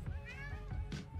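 A person imitates a cat's meow during a casual group game session, a short voiced mewing cry heard up close amid ongoing talk.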